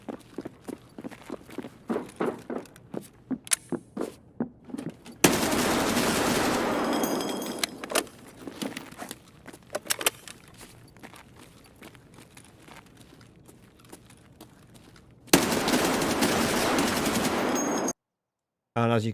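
Ash-12 rifle fire in a video game, rapid sharp shots in bursts with footsteps, then long loud stretches of sustained gunfire and noise.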